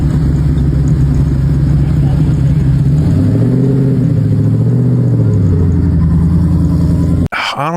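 A 1,000 horsepower Ford Mustang rumbles close by, its engine note swelling and falling through a couple of revs before the sound cuts off abruptly.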